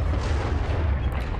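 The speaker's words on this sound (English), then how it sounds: "Big explosions." Big explosions in the Star Wars Battlefront 2 video game, a dense continuous rumble of booming blasts with heavy low end, loud and sustained without pauses.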